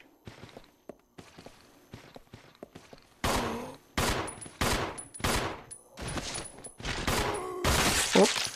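Gunfire in Resident Evil 0 HD Remaster as a zombie is shot down, a handful of loud close bursts spaced out over several seconds after some quieter footsteps and clatter.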